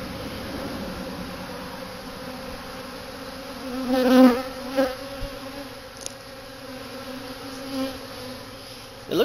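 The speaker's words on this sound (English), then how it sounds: "really do seem to be very gentle bees, very nice bees" A swarm of gentle Italian honey bees hums in a steady, dense drone, with a few louder buzzing surges as bees pass close before the sound settles back to the even background hum.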